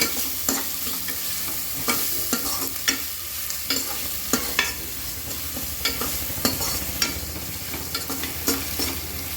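Ginger garlic paste sautés in a pan for chicken biryani, with a constant sizzle under regular, rhythmic scrapes and clacks of a spoon stirring, heard close and alone.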